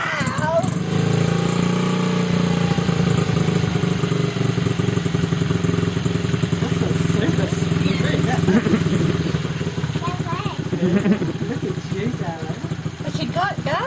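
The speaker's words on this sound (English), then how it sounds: "Rev the throttle." A small motorbike engine idles and revs with a steady mid-pitched drone, close and continuous, while people talk over it.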